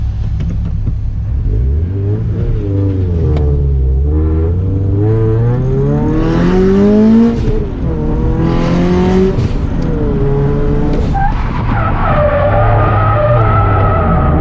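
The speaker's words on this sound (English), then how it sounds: "We're gonna be trying to drift in third gear on the very first corner" A turbocharged FRS drifts around a skid pad in third gear, its engine droning and rising in pitch as the revs climb, tyres squealing steadily underneath, all loud and close throughout.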